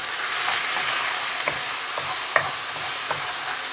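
Chicken and mushrooms stir-frying over a very hot flame in a pan: a continuous loud sizzle with a few light scrapes and taps of a utensil, close up and without speech.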